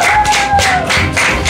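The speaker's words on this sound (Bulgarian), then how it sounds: "Искам вашите силни аплодисменти за" Studio audience applause on a Bulgarian reality show, a loud continuous burst of clapping in steady pulsing waves, with a faint whistled tone carrying over it.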